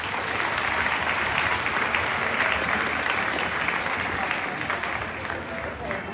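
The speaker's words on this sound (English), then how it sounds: "Let's give that an applause." A crowd at the 2021 Defiance County Fair 4-H event applauds steadily, a dense, even clatter of clapping that holds for several seconds.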